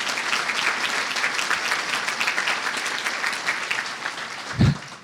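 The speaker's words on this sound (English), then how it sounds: "We want to applaud you, brother." An audience at a prayer breakfast applauds race director Miguel with steady, dense clapping that fills the room throughout, ending with a brief thump near the close.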